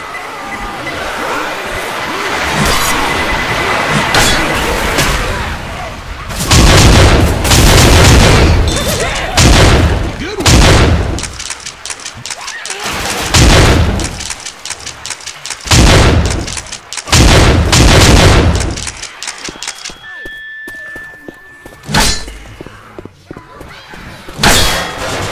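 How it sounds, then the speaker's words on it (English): Pipe bomb blasts in the Left 4 Dead zombie shooter, a series of heavy booming explosions and bursts of gunfire over about twenty-five seconds, loud and close, with players shouting at times. "Pipe bomb!"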